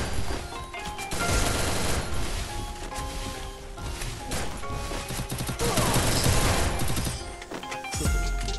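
Gunfire in a shooting video game during a 4x4 wager match: loud, continuous bursts of automatic fire and overlapping shots, with crashing impacts, filling the whole clip.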